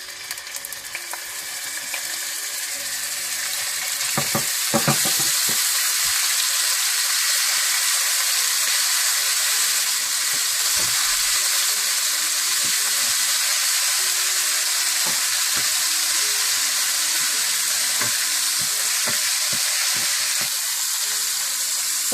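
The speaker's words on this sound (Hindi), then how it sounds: "इसमें आप पिसा हुआ अदरक लहसुन डालकर थोड़ा सा भून लें।" Ground ginger and garlic paste hits hot oil, left over from deep-frying chicken for chilli chicken, with a sharp crackling burst after a few quiet seconds that settles into a continuous, even sizzle.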